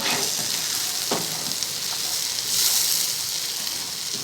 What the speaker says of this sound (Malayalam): ഈ മിക്സും ബ്രെഡ് സ്ലൈസും എല്ലാം ചേർന്ന് നന്നായി മിക്സ് ചെയ്ത്